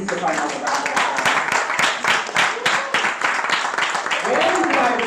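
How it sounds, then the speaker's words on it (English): Audience applause at a young scholars competition, a burst of loud, irregular clapping from a crowd, with some voices mixed in and a speaking voice emerging near the end. "Please give her another round of applause."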